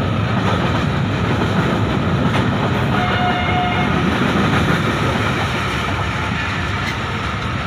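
A train rolls along the railway in Punjab, Pakistan, heading toward Islamabad after leaving a station, with a steady close rumble and clatter of the carriages throughout, and no talk.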